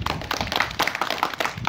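A small group in a Hindi fire-safety class claps briefly, a short burst of scattered hand claps and taps, fairly soft and uneven, lasting under two seconds.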